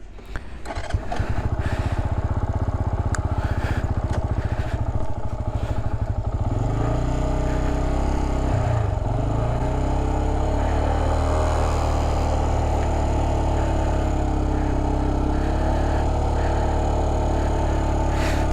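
A motorcycle engine runs steadily and loud at close range on a plateau exam practice course, starting with a few rough clattering bursts, then idling and pulling away slowly with small throttle changes and a brief dip midway.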